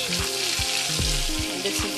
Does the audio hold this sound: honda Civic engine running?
no